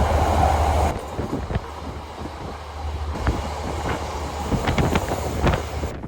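Inside a passenger carriage on a New Zealand train running from Christchurch to Wellington, a loud, steady rumble is heard, with wind buffeting the microphone and scattered rattles and clanks from the carriage.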